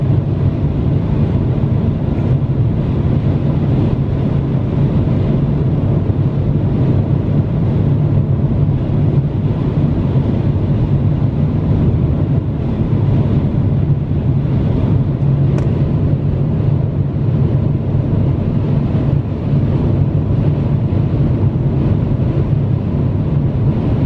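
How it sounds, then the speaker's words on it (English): Strong wind in Iceland buffets a car while driving, a constant loud low rumble of gusts and road noise steady throughout with no voices. "It's very windy out today."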